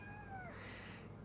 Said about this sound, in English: And my cat.